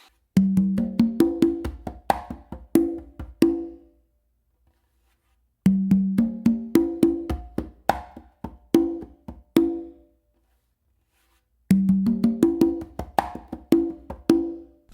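A full melodic funk groove on congas, mixing bass, finger and open tones, repeats in three dense phrases of rapid hand strikes with resonant ringing tones and short gaps between them, close and clear with no voices.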